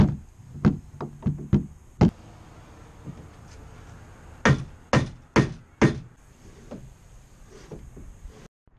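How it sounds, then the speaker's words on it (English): A hammer pounds a Boone DOX kayak rudder into its mount, giving several sharp, close knocks in two uneven bursts, a quick cluster of taps followed after a pause by four heavier strikes, with quiet handling noise between. "I actually had to pound this in with a hammer"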